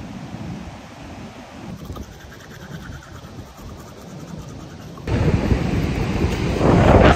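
Heavy surf pounding the shore of Lake Ontario, non-stop whitewater rolling in as a steady broad roar mixed with wind buffeting the microphone, growing louder toward the end.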